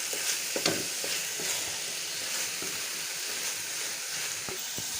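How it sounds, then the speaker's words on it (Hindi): Carrot halwa with melted butter, raisins, cardamom and chopped almonds fries in a pan. A soft, steady sizzle runs throughout, broken by occasional stirring taps and scrapes. "अब इस तरह इसको अच्छे से भून लेंगे।"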